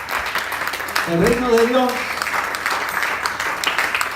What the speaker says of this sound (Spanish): pide una ofrenda de palmas al Señor